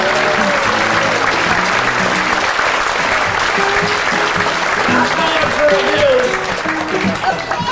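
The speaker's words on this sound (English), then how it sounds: "If the goose got it right, he'll expect thunderous applause." A magic show audience breaks into loud, sustained applause that fills the room as a dense wash of clapping, with cheering voices and talk mixed in throughout.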